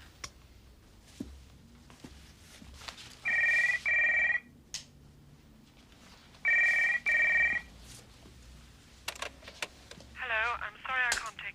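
Outgoing phone call ringing on the line, two distinct double-burst rings with quiet gaps between, followed by a short electronic warble, with faint keyboard-like clicks in the background.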